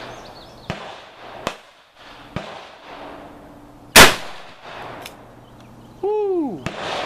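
A single sharp, very loud .357 Magnum gunshot using Hornady Critical Duty Flex Tip ammunition cracks out mid-way, preceded by smaller knocks and clicks and followed by a falling whistle-like tone.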